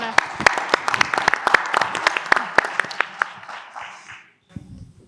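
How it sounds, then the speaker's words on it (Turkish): Audience applause at a plastics industry congress panel fills the room with dense, sharp clapping that gradually thins out and fades, followed by a brief pause and faint room noise. "Ama bu bir alkış ister."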